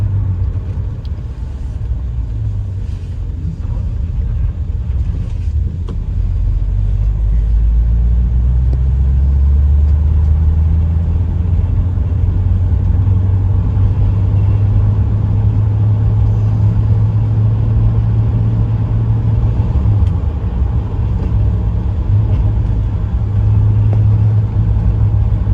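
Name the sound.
1963 Ford Fairlane 500 sedan driving and accelerating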